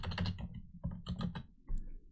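Keys clatter on a computer keyboard while a ping command is typed at a Windows command prompt, with a quick burst of close, crisp keystrokes, a short pause, then a few more taps ending in a firmer press.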